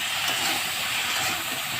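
Green chilies and masala sizzle in hot oil as they fry into a latha fish curry with potato, eggplant and beans, a steady, loud, close hiss that runs unbroken with no voices.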